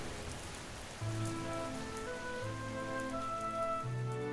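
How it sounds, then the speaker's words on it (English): Steady rain pours down in a storm as a continuous hiss, with soft low tones sustained beneath it throughout. "standing in the downpour"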